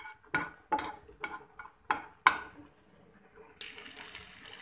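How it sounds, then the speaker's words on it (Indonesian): Bread-based pizza frying in butter in a Teflon pan: a few clattering knocks and scrapes give way to a steady, close hiss of sizzling. "ini sekarang aku lagi menggoreng pizzanya"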